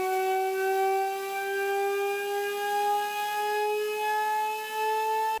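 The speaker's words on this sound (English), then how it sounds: "Here's an example of what Cagnier de la Tour siren sounded like." A Cagniard de la Tour siren, an 1800s acoustic siren, gives a steady, loud, rich harmonic wail that holds a constant pitch without pause.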